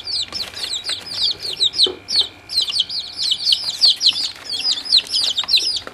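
Baby junglefowl chicks peep and cheep busily while eating mealworms, a dense, continuous chorus of high, rapid chirps from several birds close by, with no talking.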